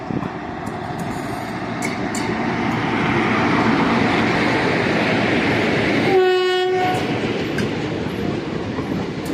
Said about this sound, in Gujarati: લોકલ ટ્રેનની એન્ટ્રી થઈ ગઈ છે.